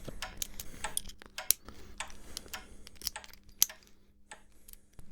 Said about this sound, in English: Juanita and Carlos could hear the tick-tocking coming from his